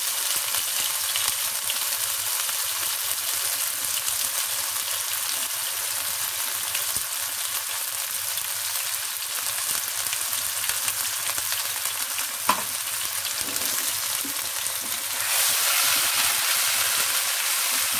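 Steady, close sizzle of a paste of onion, garlic, green chilli, poppy seed and desiccated coconut frying in a pan for a prawn dish, continuous and even with one brief clink near the end.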